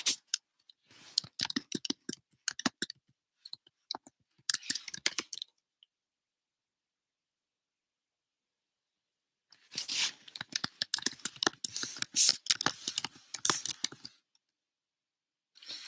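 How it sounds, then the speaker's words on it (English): Bursts of rapid, clicky typing on a keyboard, close and crisp, separated by a stretch of silence in the middle. "you can hear my enthusiastic typing"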